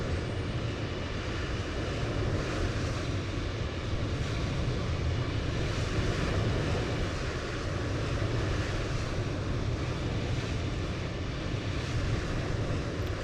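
Steady, broad engine roar of a Cathay Pacific Airbus A350 taking off in Microsoft Flight Simulator 2020 at Hong Kong, a constant loud rushing drone for the whole stretch.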